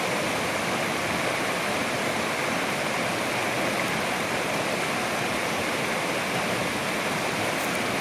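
A waterfall roars in a constant, dense wash of rushing water, loud and unbroken from start to finish.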